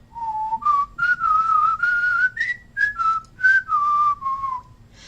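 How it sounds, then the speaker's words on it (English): A person whistles a bouncy tune alone, close and clear, in short phrases that step up and down with brief gaps between notes. "I am good at whistling."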